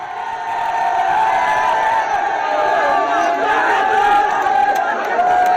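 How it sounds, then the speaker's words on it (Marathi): MNS party workers celebrate outside Shivtirth, Raj Thackeray's residence, as a loud, steady crowd roar with cheering, whoops and overlapping shouting voices that continues without a break. "मनसेचे कार्यकर्ते थेट शिवतीर्थ या राज ठाकरेंच्या निवासस्थानाबाहेर गेलेले आहेत, तिथं जल्लोष करतायत"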